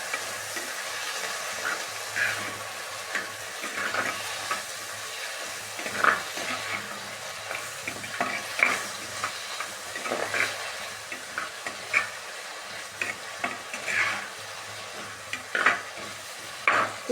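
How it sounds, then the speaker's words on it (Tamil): Tomatoes and onions frying for Trichy-style sambar, a steady close sizzle under repeated spoon scrapes and stirring strokes against the pan, no talk. "ஸோ தக்காளி அடுத்து சேர்த்துக்கிறோம்."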